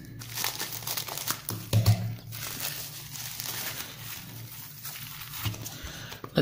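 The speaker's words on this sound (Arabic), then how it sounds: "إذا سنفتح أولا هذا الكيس." A plastic bag holding a set of phone-opening and repair tools is torn open and handled, giving close, continuous crinkling and crumpling with a few louder rustles.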